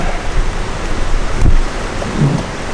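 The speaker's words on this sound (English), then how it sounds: "All right, so now it's pouring down rain." Heavy rain pours down steadily outdoors, a dense continuous hiss of drops with low rumbling wind, loud and close, with no voices.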